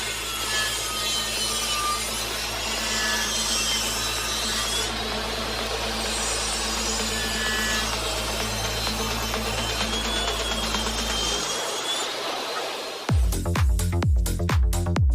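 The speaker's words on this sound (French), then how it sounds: "je vais découper le cadre de face en utilisant simplement du pin 2x6" A hand saw cuts through a pine 2x6 board for a face frame with loud, steady rasping strokes. The sawing stops near the end and gives way to brief sharp knocks.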